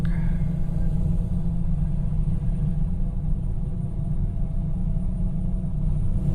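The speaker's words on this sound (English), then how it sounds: "Obnoxious sound of the truck." A modded convoy truck engine in a trucking video game drones with a deep, loud, steady rumble, continuous and close throughout, with a faint high whine above it.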